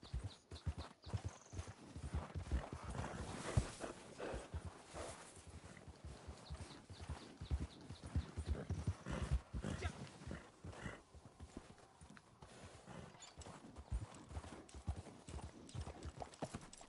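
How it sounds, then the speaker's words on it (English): Horse hooves galloping in the video game Red Dead Redemption 2, a steady, fast clip-clop rhythm that carries on throughout at moderate loudness, with an occasional snort and faint background game sounds. "Come on, Horsey"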